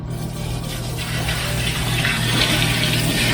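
Soapy wash water from an Amana washing machine being poured into a tub, a steady close rushing and splashing that continues throughout with no talk.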